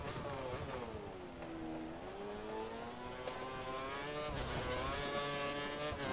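An F1 race car engine in the F1 2013 game at Bahrain howls at high revs, pitch rising and dipping with throttle and gear changes, loud and continuous with no talk.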